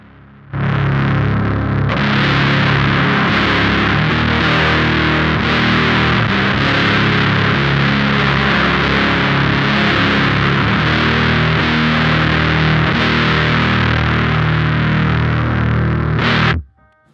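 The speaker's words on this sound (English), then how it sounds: "So if we turn it down, we're gonna get less fuzz overall." A sustained electric guitar chord through a fuzz pedal with the sustain lowered rings out loud and steady with a fuzzy, moderately gritty tone, then cuts off abruptly.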